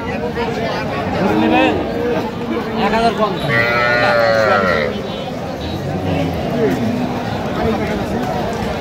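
Cattle at a busy rural haat in Bangladesh, where cows and calves are sold: loud, drawn-out lowing calls stand out over constant crowd chatter, with people talking nearby throughout.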